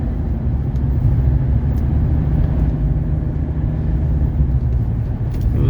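Steady low rumble inside a 1982 Mercedes 300SD S-Class diesel sedan on a test drive, smooth continuous road and engine noise with no talking.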